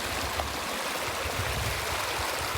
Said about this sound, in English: All right, just crossed Whitney Creek.